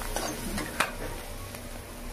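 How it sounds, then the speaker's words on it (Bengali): Spices frying in a pan with salt, giving a low continuous sizzle broken by a few stirring scrapes, one sharper clack in the middle, close and fairly quiet. "মশলাগুলো ভাজা ভাজা করে দেব।"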